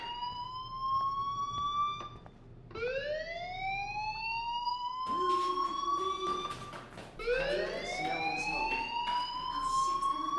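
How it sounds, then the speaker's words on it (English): In the Life is Strange video game, a fire alarm wails in repeated rising sweeps, fairly loud and continuous with no voices over it. "do you hear that fire alarm?"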